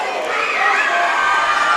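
A loud, hostile crowd roars and cheers without pause at a high school basketball game between Vienna and Goreville, with shouting voices blending into a dense, sustained wall of noise.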